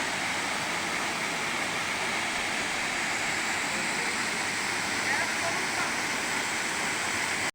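Gundicha Ghagi waterfall in Keonjhar pours in a steady, dense roar of rushing, gurgling water that stays loud and unbroken throughout, close by and alone.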